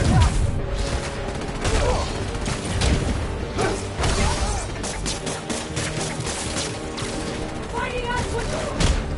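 Enemy gunfire in a Spider-Man video game, with dense, continuous loud shots and impacts mixed with crashes and mechanical clatter throughout, amid busy combat noise.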